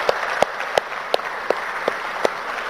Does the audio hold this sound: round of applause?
yes